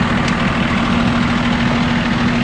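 A fire engine built to pump and roll idles nearby, a loud steady low diesel drone with a constant hum and faint knocking, continuous and unbroken with no talk.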